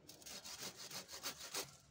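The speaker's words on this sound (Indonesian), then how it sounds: "Kalau sekiranya tidak tajam, kita dengan gergaji nggak apa-apa." A hand saw cuts through a kedondong tree branch in quick back-and-forth strokes, about seven rasping passes in two seconds, close and fairly quiet with no talk.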